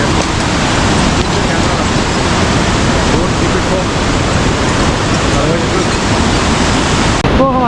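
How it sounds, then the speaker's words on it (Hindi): Steady loud rush of forceful water flowing beneath a swaying double-decker living root bridge near Rainbow Falls, a continuous broadband roar throughout with faint voices mixed in. "ये पानी ज़्यादा फोर्स में है"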